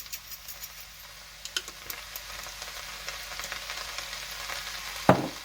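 Cabbage stir-fries in a pan after being added to pork and mushrooms, a close crackling sizzle that builds over several seconds with scattered ticks and clatters, ending in one sharp loud knock of a utensil.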